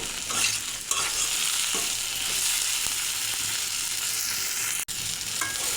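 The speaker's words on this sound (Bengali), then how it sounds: "এইভাবে ভেজে নেব।" Prawns coated with turmeric and salt fry in a hot pan, giving a steady, loud sizzle with faint stirring scrapes and one brief gap near the end; no one speaks.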